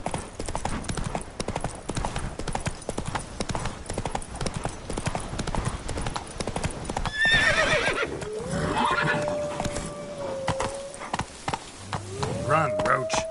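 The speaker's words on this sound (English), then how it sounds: "Run, Roach." A horse gallops with a steady, busy clatter of hooves in The Witcher 3 video game on PS5, then whinnies loudly partway through and again near the end. Talk appears to run underneath.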